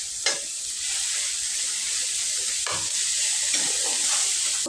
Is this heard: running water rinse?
no